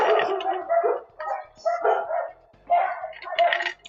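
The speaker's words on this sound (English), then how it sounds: "The dogs barked your arrival." Dogs bark in several short, rough bursts spaced across a few seconds, fairly close, with a voice briefly mixed in.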